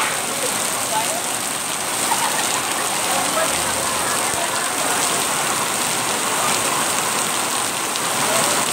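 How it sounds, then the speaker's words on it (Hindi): Heavy rain pours onto a flooded street in Sanjay Nagar, Kurla, Mumbai, where the gutters and drains are overflowing. It makes a loud, steady, dense hiss that runs unbroken from start to finish. "ये 2 मिनट की बारिश है"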